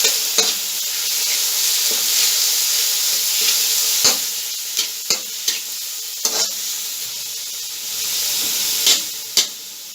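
Thin slices of chicken sizzle loudly in a frying pan for chicken fried rice, a dense continuous hiss broken by several sharp scraping knocks of stirring.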